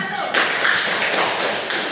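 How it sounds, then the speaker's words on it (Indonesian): Students in a seventh-grade civics class give a group dense, continuous applause after its presentation, many hands clapping at once with light voices mixed in. "Beri tepuk tangan untuk kelompok 1."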